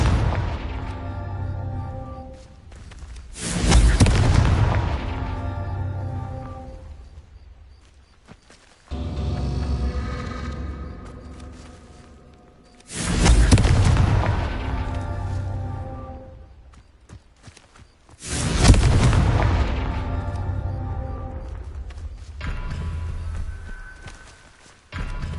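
Hogwarts Legacy Confringo explosion spells blast out in four big booming bursts, each striking hard and then rumbling away over several seconds, with quieter gaps of rustle and footsteps between them.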